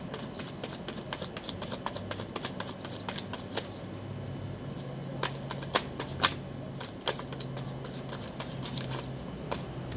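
Rapid riffling and snapping of a deck being shuffled, in quick repeated bursts, close by and fairly quiet, with faint talk in the background.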